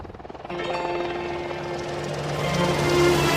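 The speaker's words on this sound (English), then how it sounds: "That's my helicopter flying over at the moment." A Sea King helicopter flies overhead, its rotor thudding and engine whine building steadily louder and nearer over a few seconds, heard alone without talk.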